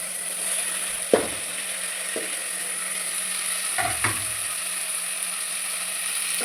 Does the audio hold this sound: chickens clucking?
no